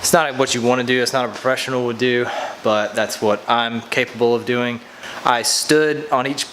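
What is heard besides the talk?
No everyday noise stands out behind the speech.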